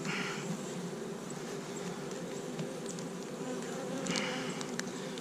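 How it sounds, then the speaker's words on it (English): Honey bees buzz steadily in an opened hive during a winter inspection, a dense, close, continuous drone with a few brief louder swells. "Nine frames of bees on the bottom"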